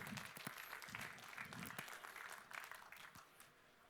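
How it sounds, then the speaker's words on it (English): A conference audience gives a warm round of applause before a talk on networking, a fairly faint, steady patter of many hands with a few sharper claps scattered through, easing slightly toward the end. "I would like to hear a warm round of applause for Reticulum, Unstoppable Networks for the People by Mark."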